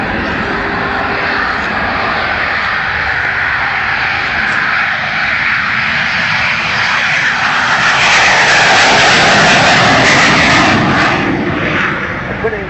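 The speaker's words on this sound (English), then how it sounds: "Vasily Sebastianov beginning his takeoff run in the YAK-130" A Yak-130 jet with twin Progress AI-222-25 turbofans roaring through its takeoff run at an air show, a loud sustained engine rush that swells slightly midway, with a commentator talking over it.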